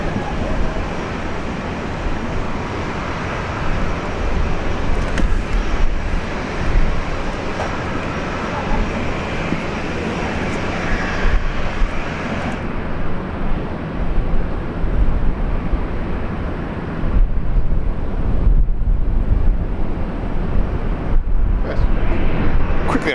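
An Air Canada airliner landing at Brisbane International Airport, a loud, sustained roar of engines and rushing air that swells and rumbles on at close range, with a voice heard faintly at times.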